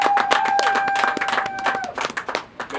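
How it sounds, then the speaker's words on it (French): An audience applauds a guest at a Christmas-in-the-park event in Montreal: dense, steady clapping from many hands over about two seconds, thinning into scattered claps, with a sustained musical tone underneath. "Une belle main d'applaudissements pour Roger Stéphane Blaise"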